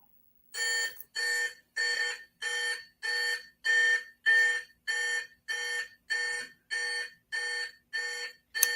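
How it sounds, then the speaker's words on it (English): An electronic alarm beeps in a steady series of about fourteen evenly spaced, bright pulsing bursts, close and clear with silence between them. "We have alarms going off."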